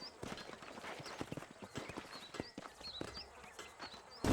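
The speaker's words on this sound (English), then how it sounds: "These are fine horses." Horse hooves clip-clop in a steady walking rhythm in the Red Dead Redemption 2 game, fairly close and soft, with chirping birds in the background and no talk.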